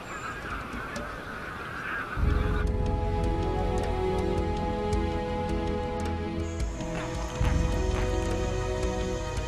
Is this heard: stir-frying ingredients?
no